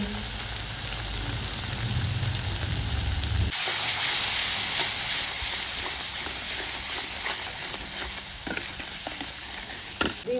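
Spices with Kashmiri chilli sizzling and frying in a pan for egg khichuri, a constant bright hiss that swells as an addition hits the oil, with faint stirring clinks.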